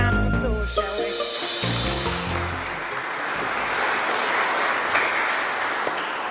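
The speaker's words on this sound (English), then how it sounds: "Let's give our kids a round of applause, shall we?" Applause for the kids at a children's well-being event, a steady wash of clapping that rises after a short musical chime and carries on evenly to the end.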